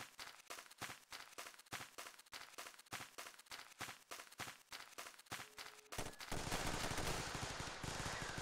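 Rapid video-game gunfire, a steady stream of sharp cracking shots in quick bursts, ending in a louder, denser wash of sustained fire.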